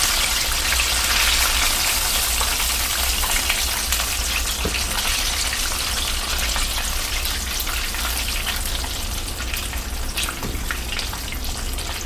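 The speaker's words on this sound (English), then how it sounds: "Your chicken is going to fry for 12 to 15 minutes." Chicken fries in a pot of hot oil with a dense, constant, rain-like sizzle that holds steady at close range throughout, with a few faint pops and no voices.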